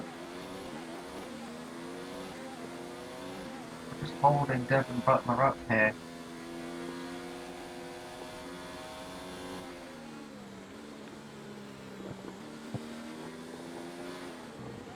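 Formula 1 cars racing in the game F1 2019 at the Chinese Grand Prix, a steady engine drone running throughout beneath continuous commentary, with a brief burst of louder, sharper engine revs around the middle.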